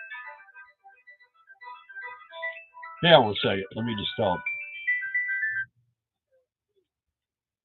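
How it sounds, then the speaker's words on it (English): A mobile phone ringtone plays at a campsite, a bright repeating melodic tone in a few quick bursts lasting a couple of seconds, preceded and overlapped by someone speaking nearby. "My phone keeps ringing."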